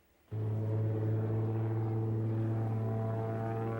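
Stunt biplane engine and propeller droning loud and steady after an abrupt start, a strong low buzzing tone with harmonics, sustained without pause while the plane flies a loops-and-rolls routine in squally, windy weather.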